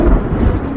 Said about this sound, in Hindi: बादल जोर जोर से गरजने लगे।